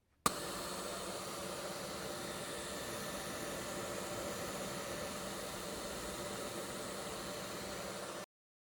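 A hairdryer blows hot air in a steady, even whoosh with a faint motor drone, starting abruptly and running unbroken at a constant level before cutting off.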